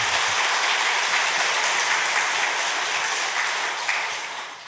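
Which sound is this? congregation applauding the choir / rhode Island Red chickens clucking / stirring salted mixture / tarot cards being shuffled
congregation applauding the choir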